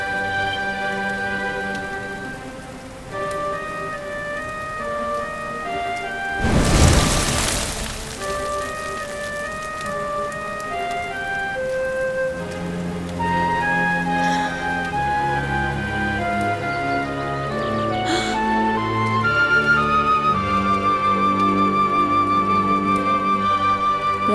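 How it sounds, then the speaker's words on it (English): Steady rain falls in the Dragon Quest XI video game, a constant hiss of drops under melodic background music, with a brief loud burst near the middle. "Looks like the rain's dying down."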